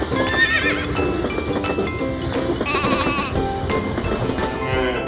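A horse neighs loudly in a long whinny, with other farm animal bleats and light hoof clopping mixed in.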